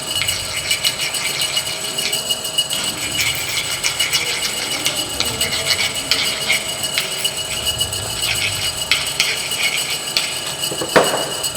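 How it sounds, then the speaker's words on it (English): A hand file scraping across the faces of a metal workpiece in a polytechnic workshop, giving a steady run of gritty metallic rasping strokes with light clinks, close and continuous, then a sharper knock near the end. "With the file, I clean all faces."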